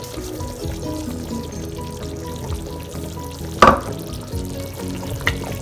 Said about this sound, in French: Et maintenant vient le moment où on rajoute le gombo sec.